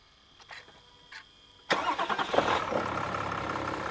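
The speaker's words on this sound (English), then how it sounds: "So we'll start up our vehicle now." A Toyota LandCruiser LC300 engine cranks and fires with a sudden loud catch, then settles into a steady close idle after a brief rev, following a couple of faint clicks.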